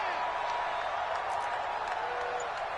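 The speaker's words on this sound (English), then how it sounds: "the crowd getting into it as we come up on a big 3rd down" A stadium crowd roars steadily in an American football video game ahead of a big third down, a dense, continuous wash of cheering and applause at a constant level for the whole moment.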